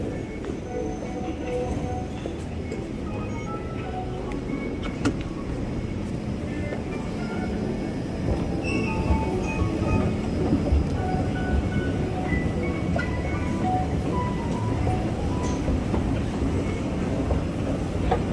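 A Singapore MRT metro train at Changi Airport station, a sustained steady rumble with rolling mechanical whine and faint squeals, heard continuously with slight swells in level and a faint voice at times.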